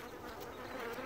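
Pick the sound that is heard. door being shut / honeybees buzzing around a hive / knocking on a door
honeybees buzzing around a hive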